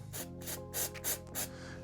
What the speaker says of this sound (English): if you have some, you can use some activator spray